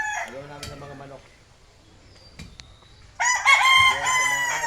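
Roosters crow nearby, one long cock-a-doodle-doo at the start and another louder, brighter crow near the end, separated by a quiet stretch with faint rustling and a thin whistle.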